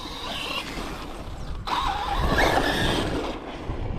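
An ARRMA Fireteam 6 RC car skidding under its handbrake: a whirring electric motor, then a squealing slide that swells and fades over a couple of seconds, fairly quiet and close.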